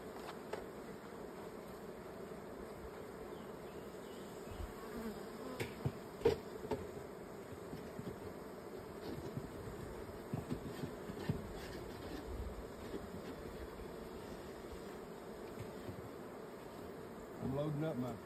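Honeybees at an open hive make a dense, continuous buzzing drone that is fairly faint but steady, with a few short louder passes from individual bees close by. No one speaks.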